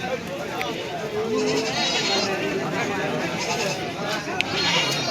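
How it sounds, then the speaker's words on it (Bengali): Several goats bleat repeatedly amid the crowded, busy din of a large village goat market, with people talking all around. "ছাগলের হাট, বিশাল বড় ছাগলের হাট"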